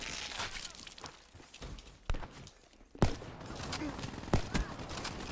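Gunfire from Black Ops 3 multiplayer sounds as a fast, crackling run of shots over busy game ambience, with a few sharper reports standing out.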